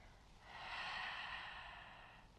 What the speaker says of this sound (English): Breathing in through the nose, exhaling through the mouth.